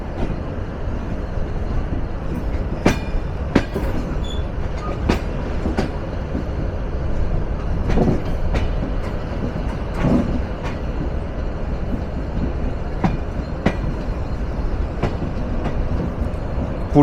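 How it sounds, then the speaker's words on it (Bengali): The Silk City Express intercity train with LHB coaches runs over a long rail curve in Bangladesh, a loud continuous rumble with sharp periodic clicks and clacks from the wheels over the rail joints. "সুবিশাল এক রেল কার্ভ নিয়ে ছুটে চলছে আন্তনগর সিল্ক সিটি এক্সপ্রেস"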